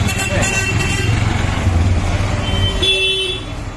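An auto rickshaw decorated with a gudi for the Gudi Padwa festival drives past close by. Its small engine drones loudly for a few seconds, with a horn toot, then eases off.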